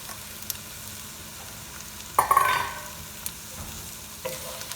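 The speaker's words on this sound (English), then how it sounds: "To this I'm going to add our pulses and just add them and saute them real little bit" Lentils are tipped into hot oil for a vegan lentil pilaf and sautéed in a pan. A sudden louder burst of sizzling rises and fades over a steady frying hiss, with a few light utensil clicks nearby and no voices.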